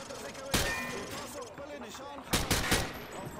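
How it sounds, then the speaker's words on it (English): Automatic gunfire bursts from a weapon at a firing range in Call of Duty: Modern Warfare 2, two loud sprays of rapid shots separated by a short pause, with in-game voices under the din. "He sprayed bullets all over the damn place."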